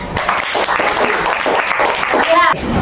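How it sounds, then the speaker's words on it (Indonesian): Classroom of sixth-grade students applauding together, dense clapping close by with voices mixed in throughout and a brief tonal squeak near the end. "Tepuk tangan semua."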